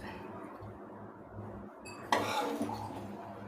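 Egg masala fry being moved from a pan onto a plate: a quiet scrape followed by a sudden clink of metal utensil against pan and plate, then a short rattle.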